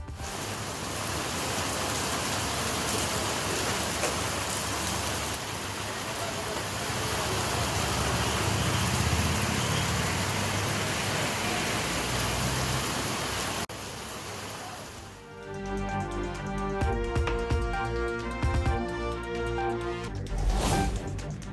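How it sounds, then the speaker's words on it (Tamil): Heavy overnight rain lashing down with strong wind, a dense steady roar of downpour for most of the stretch, then fading into music near the end. "இரவில் பலத்த காற்றுடன் கொட்டி தீர்த்த கனமழை"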